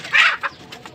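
A hen gives a short pair of clucks, close and clear, followed by quieter fowl sounds in otherwise calm surroundings.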